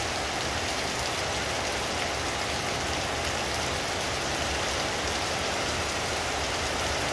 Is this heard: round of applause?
no